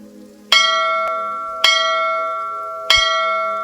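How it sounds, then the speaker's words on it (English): A ship's bell tolls three times in steady succession, each strike loud and close with a long ringing decay, heard alone. "the bell tolls 3 times"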